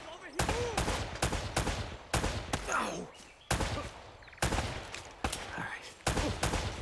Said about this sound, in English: Dude has an AK.